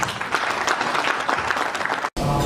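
Applause for an honoree at the Karamveer Achievement Awards 2021 ceremony, dense and sustained from a hall audience for about two seconds before cutting off abruptly, then resuming briefly.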